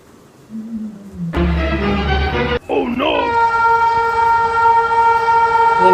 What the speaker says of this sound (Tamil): ட்ரெயின் அங்கிட்டு போயிட்டு இருக்கானே.